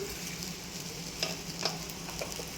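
Food sautéing in a pan after salt is added makes a quiet, steady sizzle, broken by a few soft scrapes and taps of a spoon stirring.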